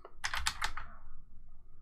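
Quick typing on a computer keyboard, a short burst of several close, crisp key clicks that then stops, with no talking.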